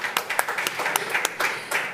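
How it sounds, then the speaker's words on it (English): Audience applause at an ecosystem builders' conference session, a moderate patter of individual claps with distinct sharp hits, fairly close and steady for a couple of seconds. "A big round of applause, please."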